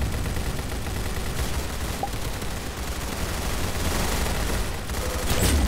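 Dense, continuous gunfire from a Roblox Arsenal match forms a steady rattling barrage with no clear gaps, loud and busy throughout.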